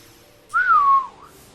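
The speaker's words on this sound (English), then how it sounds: "Please don't whistle. That was incredibly loud." A person lets out one loud, piercing whistle that rises briefly and then glides down in pitch for about half a second. It stands alone over quiet background noise.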